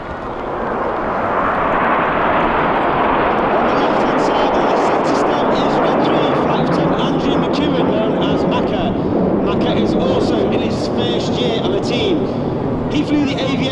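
Red Arrows jets roar past in formation at the Clacton seaside airshow, a loud sweeping engine rumble that swells and holds for many seconds as a commentator talks over the public address.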